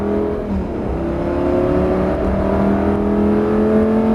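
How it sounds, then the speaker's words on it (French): A car accelerates out of a corner on the Nogaro race circuit, its engine rising in a steady, loud climbing whine heard from inside the cabin, with no talk over it. "Et tu redresses et t'accélères"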